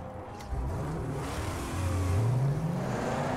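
Vehicles in the post-apocalyptic driving game Mad Max roar past, a steady engine drone that rises into a revving climb, close and loud with no talking.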